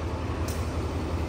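A locomotive being coupled to passenger carriages at a West Sumatra station, heard as a steady, loud low rumble of idling engine and rail machinery with a brief faint hiss.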